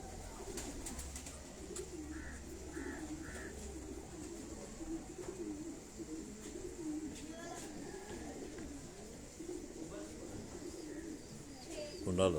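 Pigeons coo softly in a loft of paired birds kept by fanciers, with low repeated coos and occasional chirps over a steady ambient background.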